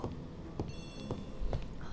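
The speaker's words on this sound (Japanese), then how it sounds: "Poirot, the telephone." Old-fashioned telephone bell in a 1930s Agatha Christie murder-mystery drama ringing in short bursts, moderately loud over a low rumbling room background with no talk.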